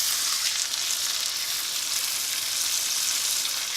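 Steak fries in a cast iron skillet with butter, rosemary, garlic and thyme, giving a loud, steady, close sizzle that crackles continuously with no pauses or voices.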